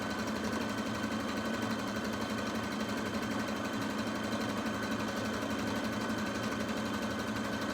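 A sewing machine stitching burp cloths runs steadily and fairly loud, a continuous fast mechanical whir with a rapid needle clatter that never pauses, with no talking.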